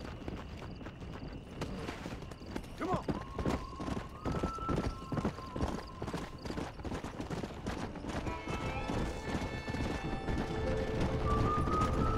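Steady clip-clopping horse hooves with a horse whinnying partway through, from the video game Red Dead Redemption, set against a busy game soundscape with music and ambient effects.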